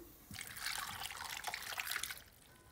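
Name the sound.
cup of water poured into a frying pan with carrots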